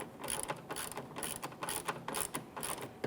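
An 8mm socket on a ratchet tightens the mounting bolt of the front exterior door handle on a 2017-2024 GMC Acadia. It gives rapid, steady, quiet clicks in an even rhythm, close up, with no talking.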